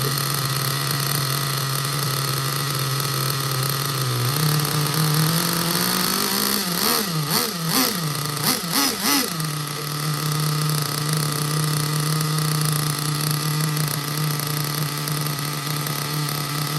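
A nitro RC car engine runs on Sidewinder 20% nitro fuel with 10% castor oil. It idles steadily with a high buzz, then revs in a quick burst of rising blips before settling back to idle, with no speech.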